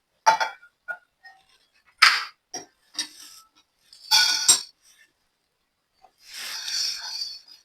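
Sabudana (sago) dry roasting in a pan, heard as short, sharp clinks and gritty scrapes of a spatula in sparse, irregular bursts separated by silence, ending in a longer rasping stir.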